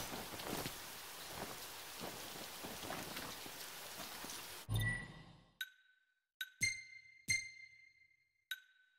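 Synthetic rain in Final Fantasy XV hisses steadily for a few seconds, then stops abruptly and gives way to a sequence of sharp, bright chiming blips separated by silence.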